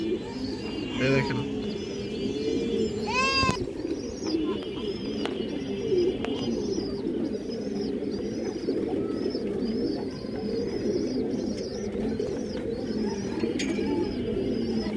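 Pigeons at a pigeon sale, among them a Bengal-type bird, coo steadily in a soft ongoing chorus, with a few brief chirps and a short spoken remark over them.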